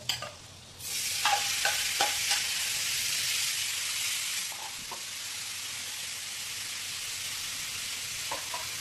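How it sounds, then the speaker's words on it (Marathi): Paneer hits hot oil and butter in a pan. A quiet start gives way to a loud, steady hiss of frying with a few clicks and taps of a spoon, and no voices. "असं फ्राय करूया तेलावरती"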